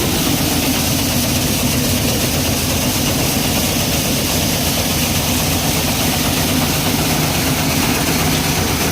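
A tractor-driven wheat-cleaning thresher runs, a loud, continuous machine roar with a heavy engine drone, unbroken and close throughout.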